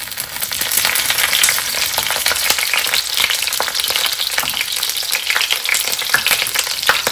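Banana-leaf-wrapped hilsa fish laid into a hot pan, setting off a loud, steady, close sizzle and crackle of frying oil that runs without pause throughout, with no talking.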